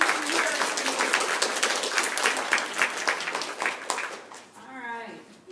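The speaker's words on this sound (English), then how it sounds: "let's give him an applause and let him hear us" Applause from an audience at an arts and letters journal reception, crisp clapping over murmured chatter that fades near the end as a voice begins speaking.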